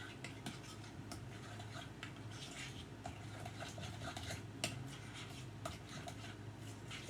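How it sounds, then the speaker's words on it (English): Parsley, salt and other ingredients being stirred together, giving soft, steady scraping with light clinks throughout, quiet and close, with no voices. "And we're going to stir that together."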